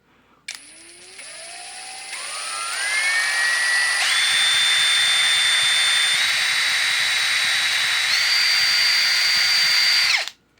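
An MTDTD-156 impact driver whines up through seven stepped speed settings, its pitch climbing in distinct jumps from a low start to a loud, steady full-speed scream before cutting off abruptly.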